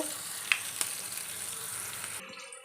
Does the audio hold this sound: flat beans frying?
yes